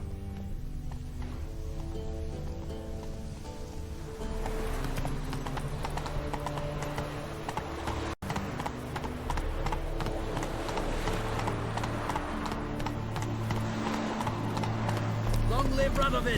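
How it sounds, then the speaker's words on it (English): Horse hooves clip-clopping in The Witcher 3 Wild Hunt, a rhythmic galloping beat that runs throughout over game music, while someone speaks in places. "Whoa there, Roach."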